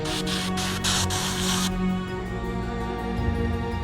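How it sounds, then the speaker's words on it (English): An Iwata airbrush sprays Createx paint onto a Harry Potter cap in a few close, short bursts of airy hiss, then cuts off, leaving a steady low hum. "I'll give it a nice coat, but still fairly light dusting over it, just so we can get the colour"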